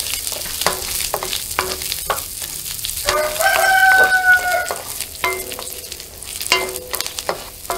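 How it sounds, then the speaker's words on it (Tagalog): Garlic for a butter-garlic milkfish dish browning in a frying pan, a steady close sizzle with stirring scrapes, and a rooster crowing briefly in the background partway through. "Papapa-brown muna natin bago natin ilagay yung ating butter"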